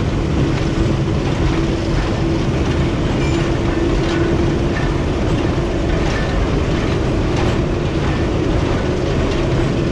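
The Nangal to Bhakra train runs on broad gauge track, giving a loud, steady, close rumble with faint rhythmic clatter from the wheels and no voices.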